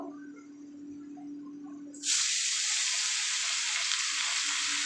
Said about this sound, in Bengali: মাছগুলো দিয়ে দেবো আমি রান্নাটা সর্ষের তেলেই করবো